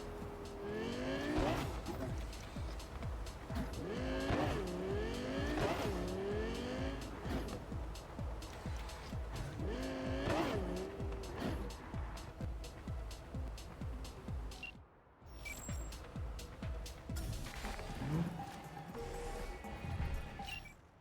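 A car in Cyberpunk 2077 revs and accelerates through repeated gear shifts, engine pitch climbing and dropping, with tire squeal and a short break before driving resumes.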